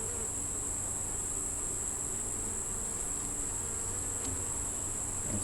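Honeybees hum steadily on a hive frame during an inspection, a continuous soft buzzing drone that stays even throughout with no talk.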